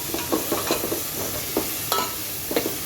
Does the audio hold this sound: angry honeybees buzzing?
no